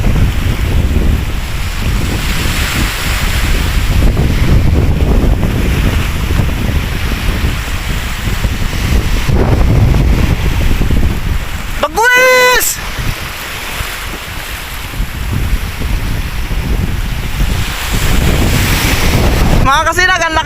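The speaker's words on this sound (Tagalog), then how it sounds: "ang lakas ng dagat, ang lakas din ng hangin." Strong sea waves crash and surge under heavy wind that buffets the microphone, forming a loud, continuous roar with a brief tonal whistle partway through.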